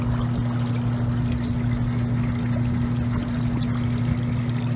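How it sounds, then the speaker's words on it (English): A shaking table separates crushed circuit board waste with flowing water, light plastic washing into the tailings and heavier copper and solder metals moving aside, making a steady, continuous pouring wash over a constant low mechanical hum. "The table's doing a really good job of separating the light plastic and the waste flowing down into the tailings"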